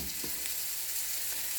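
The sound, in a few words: stirring butter melting in a pan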